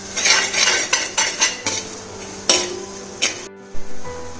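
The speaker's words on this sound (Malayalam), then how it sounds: "ഇഞ്ചിൻ്റെയും വെളുത്തുള്ളിൻ്റെ ഒരു പച്ചമണം മാറുന്ന വരെ വഴറ്റി കൊടുക്കാം." Ginger and garlic sauté in oil in a pan for a Kerala chicken roast. The sizzle is close and steady, and a metal spoon scrapes and clinks against the pan in irregular strokes, with no talking.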